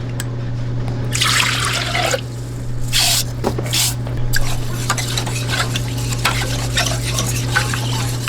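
A utensil stirs rice in a pot on the stove, with repeated scraping and swishing strokes against the metal over a low steady hum, close and fairly loud with no talking.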